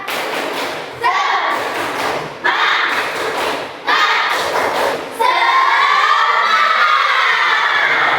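Schoolchildren in a classroom clap together in a patterned chant, with loud bursts of clapping in rhythmic groups and excited shouting. A teacher's voice is heard between the bursts.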